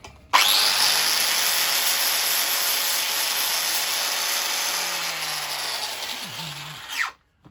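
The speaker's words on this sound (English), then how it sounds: "although it's a worn flap disc, I know how aggressive that is" A worn flap disc on an angle grinder works along the edge of a metal tool box, a loud, continuous high-pitched grinding screech that starts abruptly, holds steady for several seconds, then winds down and stops.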